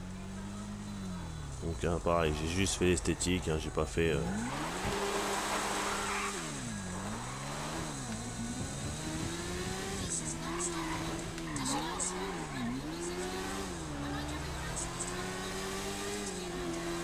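A motorcycle from Benny's garage in GTA 5 Online revs its engine in repeated rising and falling bursts, with tire squeal and skidding noise, while someone talks over it throughout.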